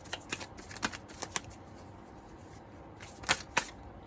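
Tarot cards being shuffled at close range in quiet bursts of papery riffles and snaps, with a long hush in the middle and two sharp card flicks near the end; no voices.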